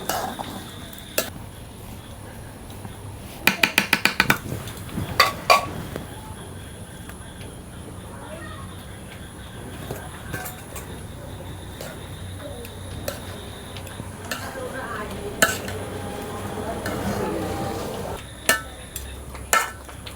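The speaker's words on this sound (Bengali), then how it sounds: "খিচুড়িটা হয়ে গেছে, এখন দিয়ে দেবো ডিম আর আলু।" Egg and potato added to cooked khichuri in a cooking pot, with sharp clinks and metallic scrapes of a spoon against the pot plus soft stirring and faint sizzling, heard alone.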